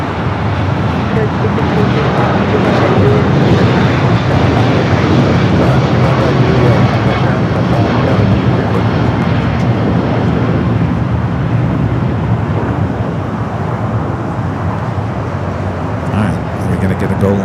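American Airlines Boeing 777-200ER rolling for takeoff on runway 25 right at Los Angeles airport, a loud continuous broadband engine roar throughout with a voice talking over it.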